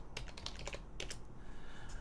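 Keys clatter on a computer keyboard in a quick run of close, crisp taps, a short pause, then a few more strokes over a low background hum.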